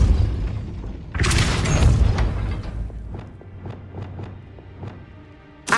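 A Depulso spell cast in the video game Hogwarts Legacy lands as a heavy booming impact with a burst of noise, then fades into a string of faint rhythmic taps and thuds.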